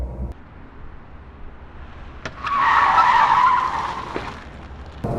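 A WuLin mini EV, rear-wheel drive with a rear-mounted motor, skids while trying to drift: a rising tire squeal and scrub lasting about two seconds over road noise, moderately close.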